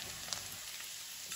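Okra (bhindi) frying in a kadhai pan makes a constant soft hiss and sizzle with faint crackles, steady and close, lasting the whole brief moment without any speech.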